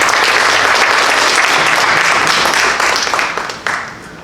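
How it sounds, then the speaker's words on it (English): An audience at a business panel event gives a round of applause for the event team, a dense, loud burst of clapping that holds steady and then tapers off near the end. "if you can help me acknowledge our team with a round of applause"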